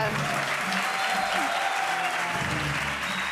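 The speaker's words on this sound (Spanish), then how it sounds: "Un aplauso para Kino." A studio audience at a late-night talk show breaks into loud, sustained applause that stays even from start to finish, with some faint voices mixed underneath.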